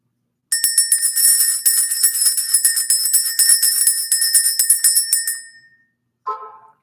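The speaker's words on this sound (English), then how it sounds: "We're going to ring the bell." A small bell is rung rapidly and continuously for about five seconds to clear energy, a bright ringing trill that fades out, followed by a brief lower chime.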